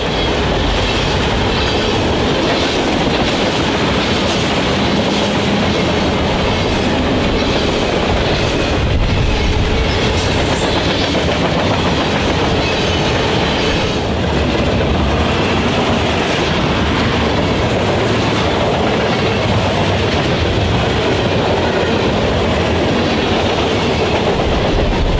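Nickel Plate Road 765, a steam locomotive, runs with its train in a loud, continuous roar of rolling wheels and rhythmic rail clatter. The sound stays close and steady throughout, with a brief high squeal partway through.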